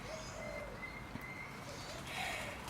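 Spotted doves cooing softly in a garden, a few low repeated coos at moderate distance over faint outdoor background noise, with a brief chirp near the end.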